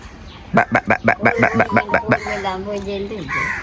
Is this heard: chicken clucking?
yes